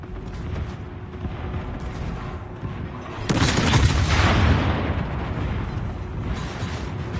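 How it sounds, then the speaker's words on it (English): Torpedo hits from a destroyer in World of Warships: a sudden loud explosive blast partway through, with a deep rumbling boom and crackling debris that slowly fades over continuous low battle noise. "DD just hit it with six torps."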